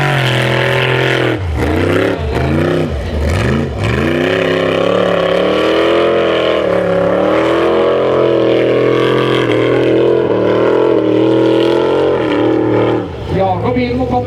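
Formula Offroad race car engine revving hard as it climbs a steep hill at the Matrand track, a loud sustained roar with rising and falling pitch sweeps, under a commentator's continuous speech.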